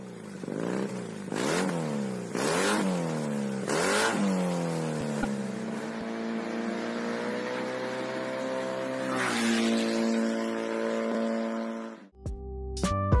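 A modified two-cylinder 250cc automatic scooter engine revs in several sharp, rising bursts, then holds a loud, steady idle before a final clattering rev, close and with no voices.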